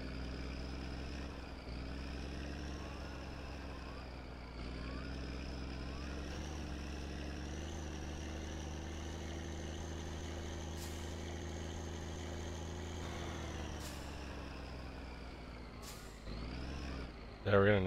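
A vehicle engine in a video game drones at a steady idle or cruise with a constant low hum and harmonic whine, then surges near the end, while a player talks over it.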